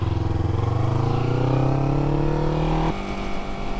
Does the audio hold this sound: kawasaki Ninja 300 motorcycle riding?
yes